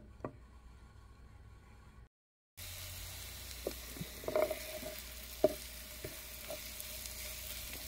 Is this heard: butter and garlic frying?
yes